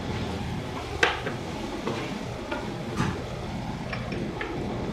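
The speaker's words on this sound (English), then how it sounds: "Mix the tomatoes really well with the onions and the ginger garlic mixture" Tomatoes, onions and ginger-garlic mixture are stirred in a pan for chhole masala, a steady close sizzle of frying broken by a few sharp scrapes and clinks of the spoon against the pan, with no speech.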